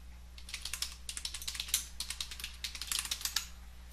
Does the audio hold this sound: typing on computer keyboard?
yes